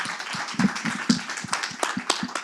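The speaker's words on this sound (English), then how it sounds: "I'd like to get a round of applause," Clapping from a small group at a workshop, close and uneven, with distinct individual claps in a loose, irregular rhythm over a couple of seconds.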